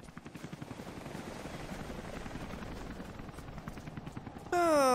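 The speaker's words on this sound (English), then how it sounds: "The helicopter sound is really not good." A helicopter's rotor thumps in a rapid, steady beat in Rise of the Tomb Raider during a prison camp escape, fairly loud and continuous, cut off near the end by a sharp rising electronic tone.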